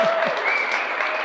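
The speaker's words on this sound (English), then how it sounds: "Can we just give these guys a quick round of applause?" A crowd at a Menfluential talk bursts into a short, full round of close applause with a steady texture throughout.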